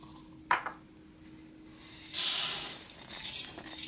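Rice being washed in an Instant Pot's inner pot, first a light clink, then a rushing, hissing spray of running water with soft grain rustling, close and continuing to the end.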